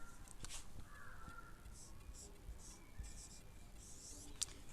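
Faint scratchy strokes of writing on a classroom board during a Class VII chemistry lecture, a few short scrapes separated by pauses under a soft hiss of room noise.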